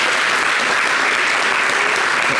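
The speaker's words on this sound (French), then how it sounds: "J'ai pas très bien compris les applaudissements" A studio audience on a French television talk show applauds in dense, steady clapping that fills the whole stretch, loud and sustained with no talking over it.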